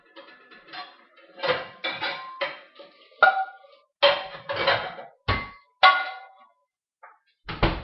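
A frying pan is pulled out and handled in a home kitchen, giving a series of sharp metallic clangs and clanks, some ringing briefly, spaced irregularly across the stretch and fairly close.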